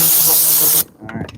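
A broken clothes steamer leaking steam, giving a loud, close, steady hiss that cuts off abruptly partway through and is followed by faint handling noise.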